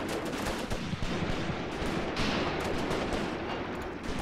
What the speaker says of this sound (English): Come on, artillery, do your thing.